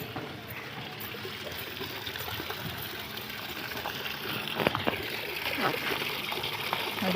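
Water being poured and splashing outdoors in hot sunshine, a steady close trickle and spatter with occasional louder splashes, while people talk over it.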